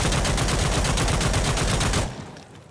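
A G3A3 battle rifle in Insurgency Sandstorm fires a rapid, loud automatic burst for about two seconds, shots tightly spaced and close, then the firing stops and a short echoing tail fades out.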